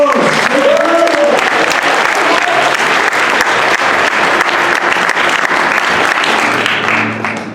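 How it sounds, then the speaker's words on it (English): Steady, loud applause from an audience at a Middle-earth themed event, greeting the third-place winner with dense clapping that holds throughout, while voices talk underneath. "Give him a round of applause."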